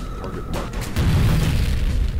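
A low, rumbling boom of an in-game explosion in the shooter F.E.A.R., swelling about halfway through and sustaining a heavy low-end roar to the end, loud with no talk over it.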